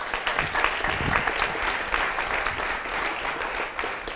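Audience applause welcoming a speaker onto the stage at a Swedish talk event on cities as platforms, a steady dense patter of many hands clapping throughout, fairly close and even in loudness.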